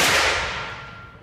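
One sharp, powerful Magnum revolver gunshot blast that rings out and decays over a second, with no voices.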